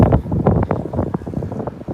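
Gusty wind buffets the microphone in loud low rumbling bursts, uneven and close, with no voices.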